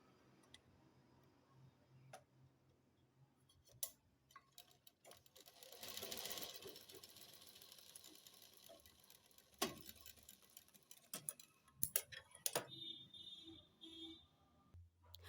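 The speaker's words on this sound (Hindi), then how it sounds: "हमने 5 इंच अब इसको कुछ इस तरह से रख करके हम इस तरह से हम सिलाई मारेंगे इस पर।" Sewing machine stitching a women's trouser piece, running in short bursts with ticking needle clicks and pauses between runs, near and fairly quiet, with no voices.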